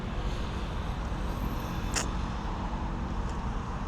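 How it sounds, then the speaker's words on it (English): Steady roaring road noise from a loud car passing nearby in Chislehurst, London, a broad rushing sound that stays loud throughout the short stretch. "Got a loud car going through there as well."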